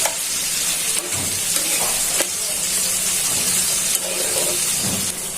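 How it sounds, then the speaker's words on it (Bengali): Onions frying in a pan for a Bengali golsha or tengra fish dopiaza, a steady loud sizzle and hiss with occasional stirring scrapes and clacks, close up and without talking. "এখানে পেঁয়াজটা ভাজা হয়ে যায়।"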